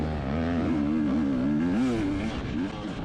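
A dirt bike engine revs hard on a trail during a Florida harescramble race near Indiantown, its buzzing note rising and falling steadily and close throughout, with no voices.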